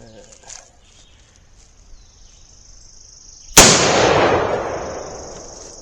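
A single sharp, loud gunshot from a 6.8 Remington SPC cartridge fired in an AR-platform rifle, cracking suddenly and then fading into a lingering reverberant tail outdoors, with no talking around it.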